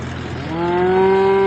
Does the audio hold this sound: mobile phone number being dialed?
no